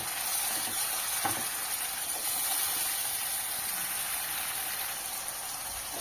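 Chopped tomatoes frying with bitter gourd in a pan, a steady close hiss of oil sizzling throughout, with a few soft stirring knocks and no talking.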